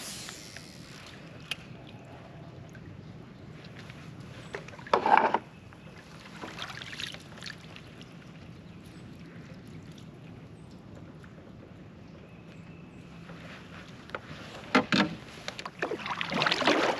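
A kayak drifts on a creek during a bass fishing outing, with soft wood knocks and paddle rubs on the hull at a few moments over a steady background of wind and water.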